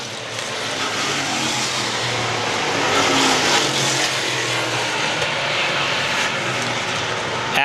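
Race cars lap Star Speedway with a loud, sustained engine roar that swells slightly mid-way, heard from trackside with no voices over it.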